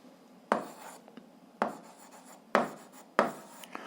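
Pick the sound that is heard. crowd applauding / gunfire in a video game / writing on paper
writing on paper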